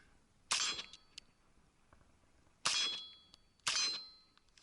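Three sharp metallic pings ring out as rifle rounds from an X95 strike angled steel targets, each clang decaying over about a second, with irregular gaps between hits.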